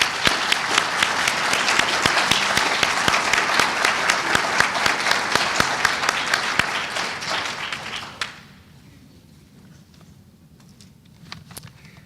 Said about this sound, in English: Please stand and we will applaud for you.